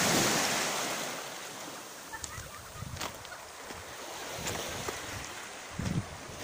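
Sea waves roll steadily onto a southern beach of the Savu Sea, a continuous broad wash of surf with wind noise across the microphone and a few louder surges, no voices.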